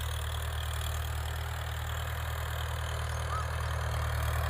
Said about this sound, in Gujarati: અમારા કાકા હાકે છે ટ્રેક્ટર જો એટલું હાંકી નાખ્યું છે